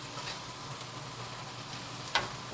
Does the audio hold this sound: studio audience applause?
no